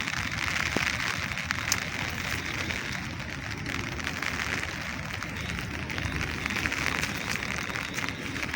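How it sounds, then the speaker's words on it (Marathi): Steady rain falls outdoors during a fishing trip in windy weather, a dense, even hiss of drops spread across the whole clip with no talk. "पाऊस आला, भिजलो मित्रांनो."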